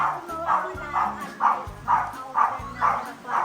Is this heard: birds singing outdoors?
no